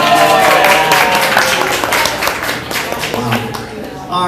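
A crowd at a Nerd Nite talk applauds in a short burst of clapping that fades toward the end. It sounds moderately loud, with faint voices mixed in.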